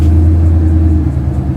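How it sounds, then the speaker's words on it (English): Ford Mustang S650 V8 rumbling at low speed while backing into a garage, a steady deep engine drone with no voices. "I'm about to get my car backed up in here"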